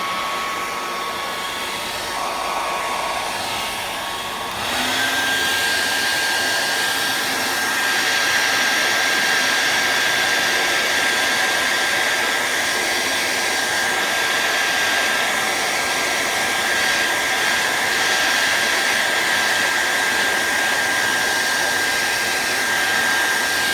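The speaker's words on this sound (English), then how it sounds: "Now, I'm going to dry this really quickly." A hair dryer on low heat blows steadily over a moist watercolour painting on paper, a continuous close whooshing hum that shifts slightly in pitch a few seconds in and runs on unbroken with no talk.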